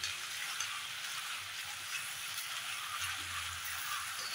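Green chillies and curry leaves sizzle in hot oil for a Maharashtrian fresh lima bean biryani, a steady close broadband crackle with faint stirring clinks, no talk.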